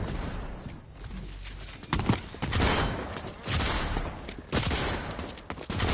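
Gunfire in the video game Fortnite, several loud bursts of shots in quick succession with pauses between, close and sharp over game ambience.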